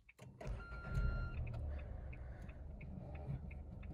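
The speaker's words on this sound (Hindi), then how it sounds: "अब इंजन को स्टार्ट कर लेते हैं, यहाँ पे आपको पुश स्टार्ट बटन मिल जाता है।" A Renault Kiger's 1.0-litre naturally aspirated petrol engine starts at the push of a button, catching quickly and settling into a quiet, steady idle heard from inside the compact SUV.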